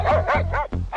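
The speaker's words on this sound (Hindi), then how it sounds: "मुझे देखकर तूने भी भौंकना शुरू कर दिया है?" A dog barks in a rapid run of about four loud, close, yappy barks with a brief break, set within a Hindi moral-story cartoon scene.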